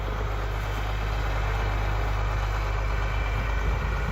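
A farm tractor engine idling steadily and close by on a cattle operation during spring storms, a continuous low rumble with no speech over it.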